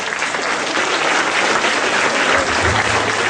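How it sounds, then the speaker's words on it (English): Students at a Republic Day school assembly applaud young leaders, producing dense, sustained clapping from a large crowd that carries steadily throughout. "Big round of applause to these young leaders."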